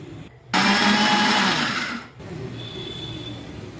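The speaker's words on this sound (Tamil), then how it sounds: "இதை நம்ம சேர்த்து மிக்ஸி ஜாரில் நல்லா அரைச்சிக்கலாம்." A mixer grinder jar whirs loudly for about a second and a half while grinding coconut chutney ingredients with salt, curry leaves and water. It cuts off abruptly and a quieter motor hum follows.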